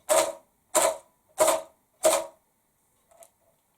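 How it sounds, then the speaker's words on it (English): A plastic bottle shaker filled with pasta rattles in four bold, evenly spaced shakes, followed by a faint final jiggle. "Pasta makes a fairly bold sound."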